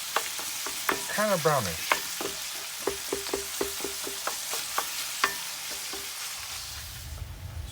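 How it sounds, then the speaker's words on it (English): Ground beef frying in a pan for Trinidad pastelles: a steady sizzle under repeated sharp scrapes and taps of a spatula chopping the meat, with a brief voice partway through. "We're gonna chop it up with your spatula so it gets evenly distributed all over the pan."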